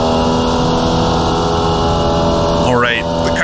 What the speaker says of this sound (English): the car just kind of bogs down as it heads up the hill